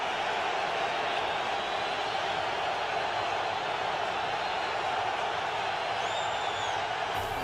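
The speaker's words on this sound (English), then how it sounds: "listen to the crowd on 3rd and 8" Football stadium crowd roaring on a 3rd-and-8 play in a 2006 Colts versus Jets game, a steady dense wash of distant cheering that holds without a break.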